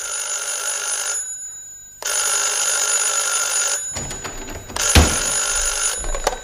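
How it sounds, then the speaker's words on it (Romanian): A telephone bell rings in long, bright bursts separated by pauses, followed by clattering handling noises as the receiver is picked up. "am auzit soneria telefonului încă de pe palier"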